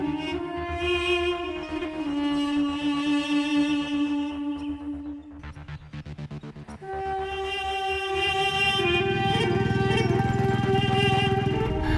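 A motorcycle engine runs steadily and loud, its drone dipping briefly midway and then rising again into a sustained, close roar, with no talk over it.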